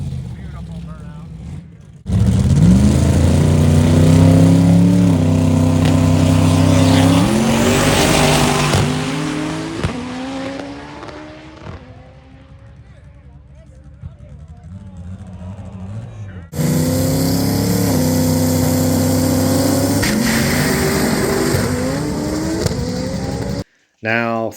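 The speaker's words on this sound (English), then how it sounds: "burnout." A 1973 drag racing car from Albany, Oregon does a burnout at a quarter-mile heads-up drag event, its engine roaring loud and close with revving and tire squeal, then fading before a second loud burst.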